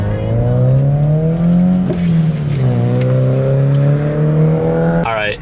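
Subaru BRZ fitted with a Greddy Revolution RS exhaust revs hard and close, a loud throaty engine note climbing and falling through several sustained pulls before a sharp final blip.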